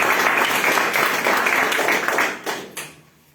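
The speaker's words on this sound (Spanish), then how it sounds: "den un aplauso a nuestro" A church congregation claps together in a loud, dense round of applause that holds steady, then tapers off with a few last scattered claps before quiet.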